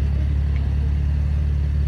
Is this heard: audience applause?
no